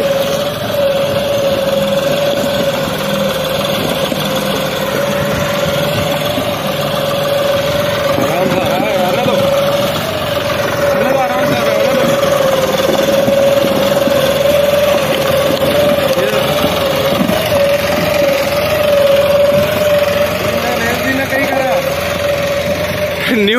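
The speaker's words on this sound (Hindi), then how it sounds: "न्यूट्रल आरपीएम में जॉन डियर 5000 बिक्स लेकर चढ़ गया" A John Deere 5210 tractor engine hauls a trolley loaded with 5000 bricks, running as a steady, loud drone with a strong sustained tone that holds throughout, with voices audible beneath the engine.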